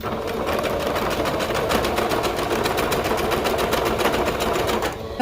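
A sewing machine runs a steady, fast, continuous stitching whir along a leotard seam for several seconds, loud and close, slowing briefly near the end with no talking.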